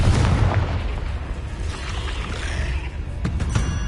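A Confringo explosive spell in Hogwarts Legacy, heard as loud booming blasts and rumbling detonations that fill the whole stretch, with sharper hits near the end.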